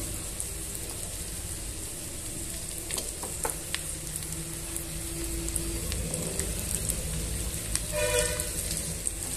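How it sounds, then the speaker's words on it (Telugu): Cut potato pieces frying in a pan for a Telugu potato fry, a steady low sizzle running throughout with faint stirring clinks, and a brief tonal squeak near the end. "ఇప్పుడు ఇందులోనే కట్ చేసి పెట్టుకున్న పొటాటో పీసెస్ని వేసుకోవాలి."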